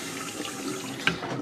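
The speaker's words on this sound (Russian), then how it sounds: "два крана открывать и вот так вот делать себе теплую воду" Water running from a hotel tap in Lisbon, Portugal, a soft steady hiss of flowing water with a brief splashy burst near the end, close by and without talk.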